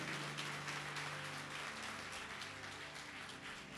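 Congregation clapping together in a church service, a dense, steady wash of applause at moderate level with faint music held underneath throughout.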